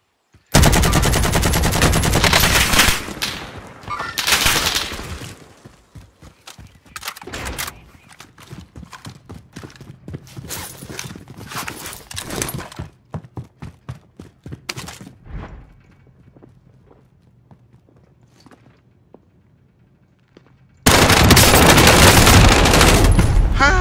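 AK rifle fire in a video game, with loud sustained automatic bursts at the start and end and scattered single shots and clattering effects in between.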